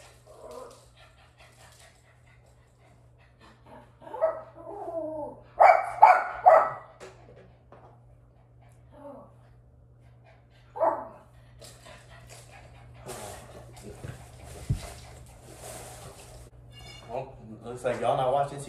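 A dog barks in short bursts, loud and close, around the middle, with a few quieter yips and whimpers elsewhere amid household noise and people talking.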